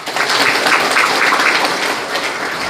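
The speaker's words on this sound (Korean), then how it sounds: "박수 한번 보내주십시오." Audience of seniors clapping at a civic group's founding ceremony in Busan, a sustained, dense round of applause that holds steady at full volume throughout with no talk over it.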